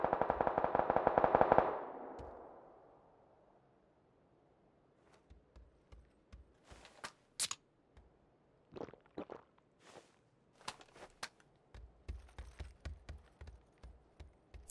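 Gunfire in the PUBG video game striking a building: a rapid burst of shots at the start, then scattered sharp impacts and thuds at varying distances and loudness, with no speech.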